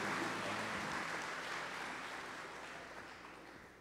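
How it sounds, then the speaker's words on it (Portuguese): Catholic parish congregation clapping during a Portuguese-language Mass, a broad continuous patter of many hands that slowly thins and fades toward the end. "Uma salva de palmas a Nossa Senhora e a seu menino Jesus Cristo"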